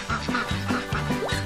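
Geese on a countryside family farm give a rapid series of loud, nasal honks, about four close calls in quick succession.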